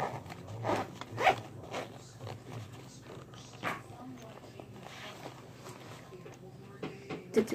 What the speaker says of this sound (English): Then you can just zip your bag up.